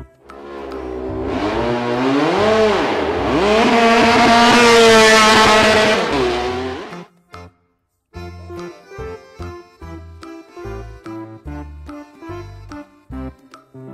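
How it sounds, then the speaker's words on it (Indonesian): A motor engine revs loudly, its pitch climbing and falling in sweeping surges for several seconds before cutting off, followed by short choppy bursts of tonal sound. "Sepeda motor."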